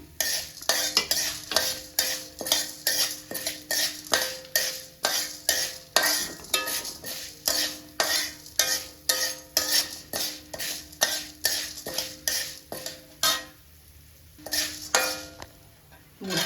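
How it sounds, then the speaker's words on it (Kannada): Urad dal, chana dal and fenugreek seeds dry-roasting in a pan, stirred with a spoon in a fast, regular scraping rhythm of metallic clinks and rattling grains, close and clear with no voices. "ಮೂರು ಸ್ಪೂನ್ ಬೇಳೆ ಮೂರು ಸ್ಪೂನು ಕಡಲೆಬೇಳೆ ತೊಗೊಂಡಿದ್ದೀನಿ ಒಂದು ಅರ್ಧ ಸ್ಪೂನು ನಾನು ಮೆಂತ್ಯ ತೊಗೊಂಡಿದ್ದೀನಿ ಹಾಕ್ತಾ ಇದ್ದೀನಿ ಚೆನ್ನಾಗಿ ಹುರಿಬೇಕು"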